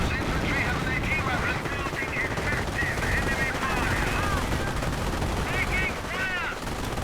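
Machine gun fire rattles in short bursts in a World War II strategy game with a Panzer IV tank and strafing aircraft, set against a dense, rumbling battle din while a commentator talks over it.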